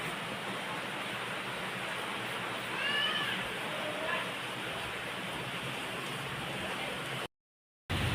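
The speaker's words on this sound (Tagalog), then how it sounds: "inabot lang tayo ng ulan dito kay Makoy sa barbershop" Steady rain pours down outside a barbershop, a dense, even hiss that continues without a break, with a faint cat-like meow briefly over it and a short silent gap near the end.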